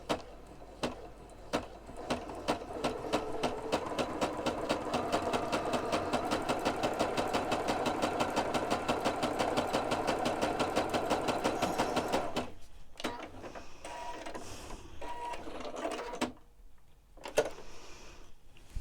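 A sewing machine fitted with twin needles stitches zigzag rows in a fast, even mechanical chatter for about twelve seconds, then slows into short bursts and stops; close and loud, without talk.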